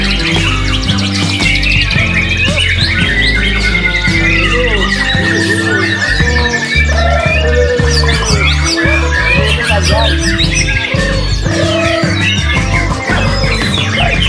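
Dense, loud songbird chirping and trilling that repeats continuously over a steady droning background, with several calls overlapping.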